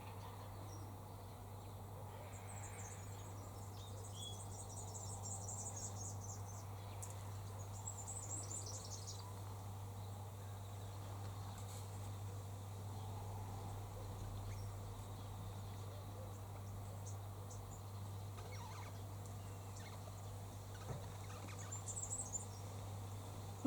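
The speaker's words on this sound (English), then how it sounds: "Yes, I can hear rosellas behind me." Rosella parrots calling in the distance among acacia trees, faint high chirping bursts scattered across a quiet outdoor background with a low steady hum underneath.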